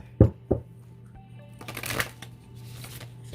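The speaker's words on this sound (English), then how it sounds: "Let's pull some more cards." Tarot cards shuffled by hand: a couple of sharp taps, then a longer riffling, papery flutter that rises and fades, fairly close and heard alone.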